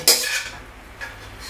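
Metal utensil clanks sharply against a pan as cooked beef is scooped into a bowl, one loud scrape-and-clink followed by softer scraping and a second lighter knock, close and without speech.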